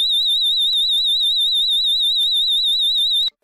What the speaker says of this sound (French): le niveau d'alarme intrusion qui déclenche la sonnerie de la centrale en puissance